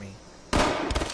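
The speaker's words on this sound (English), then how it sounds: "Where am I getting shot at from?" A sudden burst of gunfire in Fallout 76, a loud crack followed by rapid rattling shots, sharp and close, cutting in after a quiet moment.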